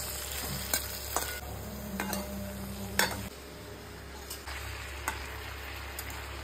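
Chilli chicken stir-fries in a pan with a soft continuous sizzle, and several crisp scrapes and taps of a utensil against the pan punctuate it at close range. No one speaks.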